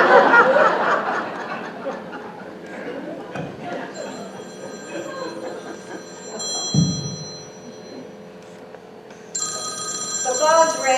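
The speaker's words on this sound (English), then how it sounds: "The phone's ringing." A household telephone rings through a comedic stage scene, its bell trilling in bursts over lively talk and chuckling from several people.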